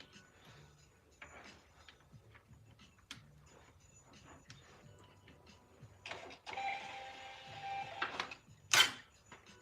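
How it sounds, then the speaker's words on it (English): A home printer powering up after being plugged back in, with faint mechanical whirring and clicks building into a louder grinding run and a sharp clack near the end, heard nearby in a quiet room. "Oh geez, I forgot I unplugged the printer."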